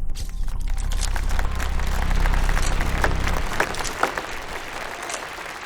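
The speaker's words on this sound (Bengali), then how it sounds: "প্রফেসর ইয়ান জিংকে আমরা করতালির মাধ্যমে স্বাগত জানাবো" Applause from an audience welcoming Professor Yan Jing at a press conference, a steady dense clapping that swells and then thins toward the end, with a low hum underneath.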